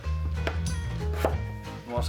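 Carrots are chopped into chunky cubes on a board for a Finnish fish soup, giving a few sharp knife knocks against low kitchen hum.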